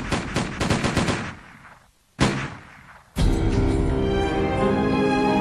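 Gunfire in a documentary about the Battle of Lexington: a loud rapid burst of shots, a pause, a single blast, then a sustained roar of continuous firing with a lingering rumble.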